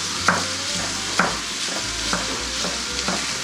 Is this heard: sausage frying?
yes